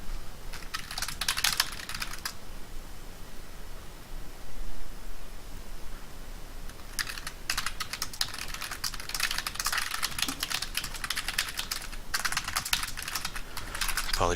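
Mechanical keyboard keys click in rapid runs of typing, steady and close, over a constant hiss, with brief pauses between bursts.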